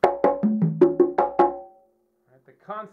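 Conga fill built on a paradiddle-diddle: six or seven quick, ringing drum strokes in a short burst with pitched open tones, then a pause and a few spoken words.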